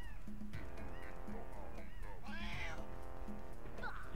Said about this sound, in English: And those stupid ass cats.